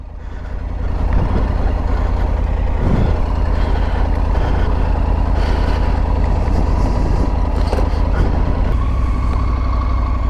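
A Triumph Tiger 900 GT Pro motorcycle runs on a test ride, its engine a loud, steady, throbbing drone that swells in the first second and then holds, with no talking.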